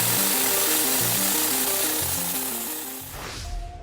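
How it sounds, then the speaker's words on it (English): A Milwaukee MX Fuel cordless core drill rig bores into reinforced concrete with a loud, steady mechanical grind and rhythmic stepping motor tones, fading slightly before a closing scrape. "The MX Fuel Core Rig is a drill rig that's capable of drilling 4 holes in reinforced concrete"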